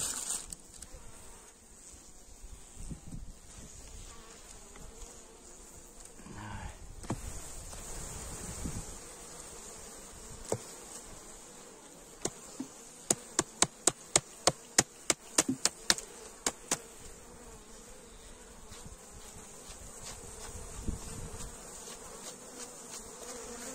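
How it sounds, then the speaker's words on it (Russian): Honey bees swarm and buzz at a hive in early spring after surviving winter frosts, a steady dense drone throughout with a burst of sharp knocking taps partway through. "Пчелы много."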